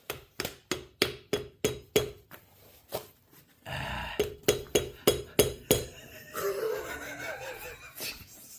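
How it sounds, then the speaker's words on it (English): A hammer strikes metal parts of a boat trailer wheel hub during assembly: sharp, ringing clanks in a steady run of blows, a short pause, then a second steady series, up close and loud. "Hammer."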